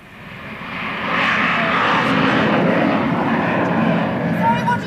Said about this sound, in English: I said we seem to be on the flight path again today. I wonder who was in that plane.